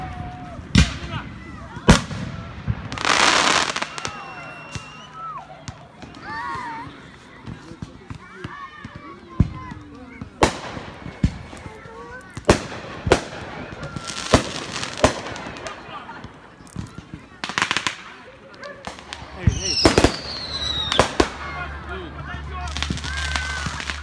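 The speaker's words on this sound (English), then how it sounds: "On 4th of July, there is also a very pretty fireworks show." Fourth of July fireworks go off near a lake resort in a series of sharp bangs and crackling bursts at irregular intervals, some loud and close, with people talking between them.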